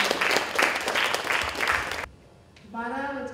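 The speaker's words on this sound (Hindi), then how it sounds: "ऐसी अंजलि पांड्या दीदी जी को हम सभी एक बार ताली बजाकर दोबारा से अभिनंदन" An audience claps in honour of Anjali Pandya at the Shiksha Sangam 2016 education gathering in Karnavati. A dense, steady wash of applause lasts about two seconds, then stops abruptly and a voice follows.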